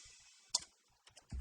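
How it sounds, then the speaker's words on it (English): Computer keyboard presses trigger drum samples in DubTurbo beat-making software: a few quiet clicks, then a sharper hit and a low thump at the end. "What you heard there was me pressing the keyboard and it triggered our sounds."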